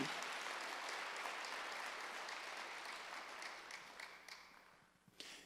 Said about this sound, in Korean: 박수를 하나 더 해주세요.